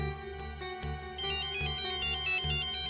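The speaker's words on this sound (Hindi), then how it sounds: "सर, उसी का फोन है।" A phone ringtone plays a repeating electronic melody, steady and clear at moderate volume, with no voices over it.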